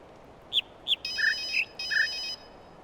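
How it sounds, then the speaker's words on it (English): A telephone rings in The Witness video game: a few short electronic chirps, then two sustained trilling ring bursts, clear and alone against a faint background hiss. "There's a phone ringing!"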